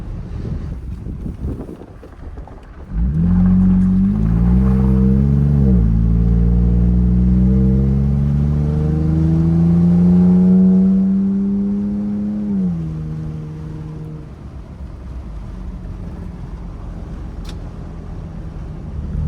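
A Toyota Tacoma fitted with an AWE dual exhaust drives along normally, its engine note rising and shifting through gears in a loud, close drone with wind noise in the background.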